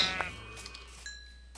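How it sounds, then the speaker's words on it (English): A sheep in the Minecraft video game gives a single short, synthetic bleat early on, followed by chiming game tones against a quiet background. "Okay, I'm killing sheep. I like to kill sheep."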